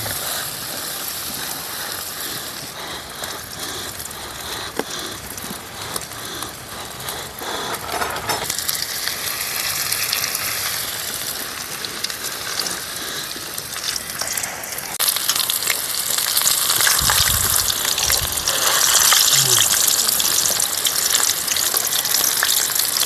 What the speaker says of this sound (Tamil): இப்போ இதை எடுத்து எண்ணெயில் போட்டுக்கலாம்.